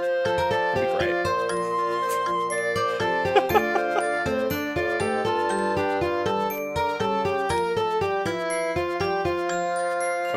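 A marimba-style ringtone melody plays on its own, bright struck notes ringing out in a steady tune over about ten seconds, close and clear with no talking.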